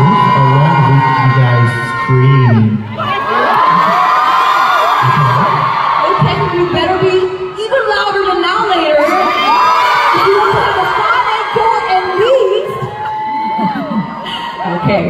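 Fans at a fan concert tour stop in Singapore cheer and scream continuously over loud background music, with a dense, bright crowd roar and occasional whoops throughout.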